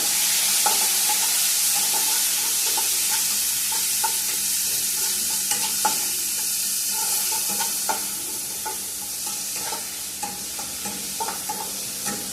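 Onions fry in a pan for a homemade meal, a steady bright sizzle carrying on throughout while a utensil scrapes and stirs in irregular clicks and knocks, close by with no talking.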